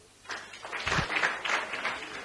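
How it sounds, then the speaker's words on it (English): Applause from a quiz-night audience in Mombasa, a short burst of many hands clapping that swells quickly and holds steady at moderate loudness, with no talk over it. "A clap for him."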